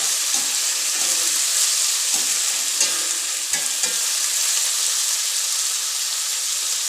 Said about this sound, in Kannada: ಟೊಮೊಟೊ ಹಾಕಿದ ಮೇಲೆ ಮತ್ತೆ ಇದನ್ನು ಒಂದು ಮೂರು ನಿಮಿಷದವರೆಗೂ ಚೆನ್ನಾಗಿ ಎಣ್ಣೆಯಲ್ಲಿ ಫ್ರೈ ಮಾಡ್ಕೋಬೇಕು